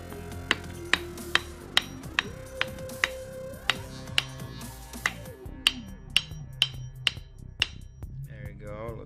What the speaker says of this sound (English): So if I do this here and hammer very gently